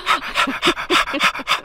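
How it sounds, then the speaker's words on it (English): A dog panting heavily indoors, rapid rhythmic breaths about four per second, close and loud with no talk. "they hear all the heavy breathing and all that stuff in the background"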